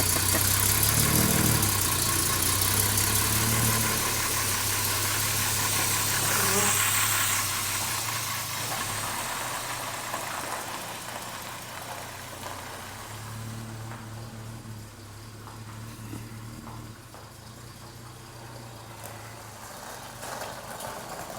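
A 1964 Jaguar car engine running and idling, a steady mid-pitched drone with hiss that eases slightly in level over about twenty seconds, heard close.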